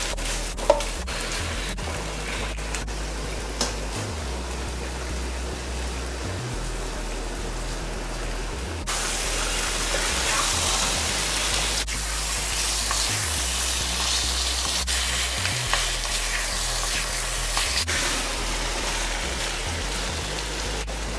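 Chicken sizzles and fries in masala for a Guyanese chicken curry, giving a loud, dense crackle that continues for a long stretch with brief stirring shifts and no talk.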